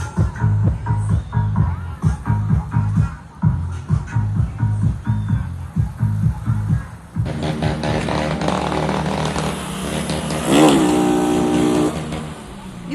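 Motorcycles rev and maneuver on a residential street in the Universitário neighbourhood on Rua Martinho Lutero, loud repeated throttle blips in quick bursts, then a sustained high-revving engine roar rising and falling.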